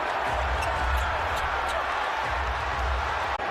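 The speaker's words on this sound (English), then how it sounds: "you can hear this crowd humming now, chanting defense" Basketball arena crowd during an NBA game hums and chants defense, a loud, continuous roar with rhythmic rises, while a commentator talks over it.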